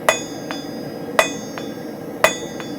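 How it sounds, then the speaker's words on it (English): A blacksmith's hammer strikes steel on an anvil while forging a leaf, three sharp ringing blows about a second apart, each followed by a softer rebound tap, close and clear over a quiet background. "We're going to hit half on and half off the anvil."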